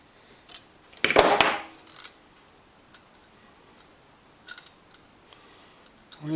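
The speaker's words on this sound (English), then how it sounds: "I'm just tightening the set screw." A faucet set screw being tightened during a leaky faucet repair gives one sharp metallic clatter up close, followed by a few faint clicks and small taps in an otherwise quiet room.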